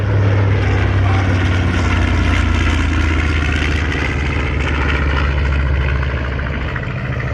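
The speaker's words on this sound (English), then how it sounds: "So this airplane just recreated that bombing run." A loud, steady propeller-engine drone of a B-25 bomber at an air show holding close and constant, with a deep low rumble throughout.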